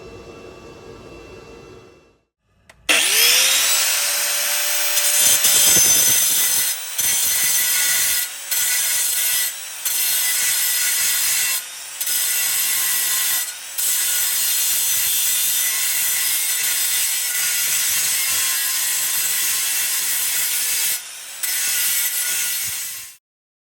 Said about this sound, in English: then clean up with the angle grinder, make it all smooth